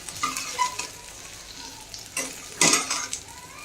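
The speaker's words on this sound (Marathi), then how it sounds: "आता गोल्डन कलर होईपर्यंत फ्राय करून घ्यायचा" Spice masala fries in a pan toward golden brown, a soft continuous sizzle punctuated by a few louder scraping stirs and a sharp clink near the end, nearby and without speech.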